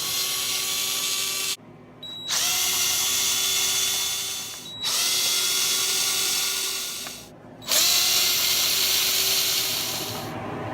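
Power drill driving screws out of the case of a ShoreTel desk phone during repair, whirring in three long steady bursts separated by brief pauses, close and loud with no talk.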